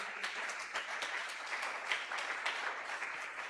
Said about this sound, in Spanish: dale un fuerte aplauso al Rey de Reyes y Señor de Señores